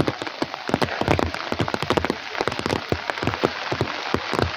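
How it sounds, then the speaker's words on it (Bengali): Rain falling on a hillside street near the Mall in Darjeeling, a close, loud patter of drops striking hard surfaces in dense irregular bursts, with no speech. "বৃষ্টির আওয়াজ আশা করি পাচ্ছেন।"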